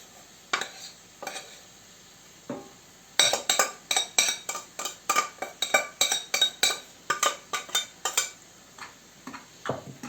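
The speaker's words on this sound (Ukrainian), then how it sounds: "Так само трошки ми розмішуємо, висипаємо сюди рис відварений" Boiled rice being stirred into a filling in a pan for rice, green onion and egg pies, a spoon scraping and clinking against the pan in quick, uneven strokes, a few isolated knocks first, then a dense run of close, rhythmic scrapes.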